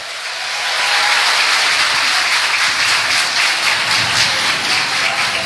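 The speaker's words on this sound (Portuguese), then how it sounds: "Uma salva de palmas para eles." Applause for police officers during a city council session rises after a quiet start into sustained, loud, even clapping from the chamber.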